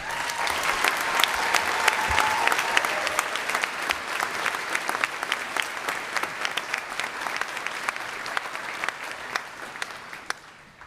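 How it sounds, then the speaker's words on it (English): Sustained audience applause at a Naval Postgraduate School summer graduation ceremony, a large crowd clapping steadily and fairly loudly for about ten seconds, with sharp individual claps standing out and the sound easing slightly near the end. "let's give them a round of applause."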